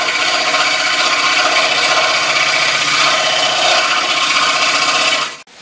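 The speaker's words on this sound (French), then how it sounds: "je vais mettre ma lame de scie et je vais serrer" A scroll saw blade being fitted and clamped tight, heard as a loud, steady close rasping rub that runs unbroken for several seconds before stopping abruptly with a sharp click.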